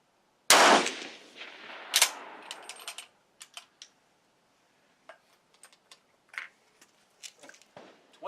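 A K31 rifle fires one loud, sharp shot close by, then another about a second and a half later, followed by scattered softer clicks and clatter of handling the rifle.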